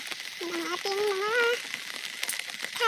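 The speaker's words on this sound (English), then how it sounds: "Today it's raining" Steady rain falls outdoors over a small squash plantation, a constant close hiss with a person's voice speaking over it.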